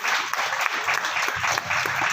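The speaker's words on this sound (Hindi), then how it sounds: "तालियों से स्वागत करें" A seated audience claps steadily and loudly at a school sports closing ceremony, with dense, continuous applause filling the whole stretch and no talking over it.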